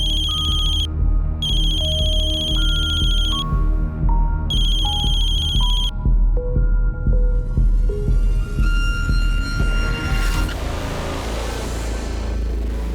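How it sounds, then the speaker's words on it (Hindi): A mobile phone ringtone plays loud and steady, a melodic tone sequence repeating as an incoming call rings on, with a few pauses between short phrases and a busy musical backing underneath. "तो बार बार कॉल कर रहा है।"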